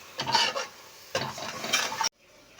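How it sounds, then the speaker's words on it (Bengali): Spice paste of chilli powder, a little turmeric and garam masala being stir-fried with a little water in a pan, two bursts of scraping stirring and soft sizzle, close, then a sudden stop. "অল্প একটু জল দিয়ে মশলাটা খুব ভালো করে কষে নেব।"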